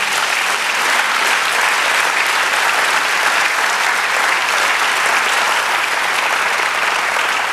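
A church congregation applauding, dense and loud continuous clapping from many people with no letup across the whole stretch.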